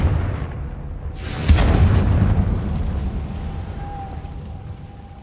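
A Confringo blasting spell from the Hogwarts Legacy video game goes off as one loud, sudden boom, followed by a long, low rumbling decay that fades slowly under a steady background drone.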